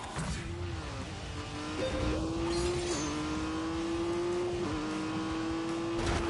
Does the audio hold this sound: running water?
no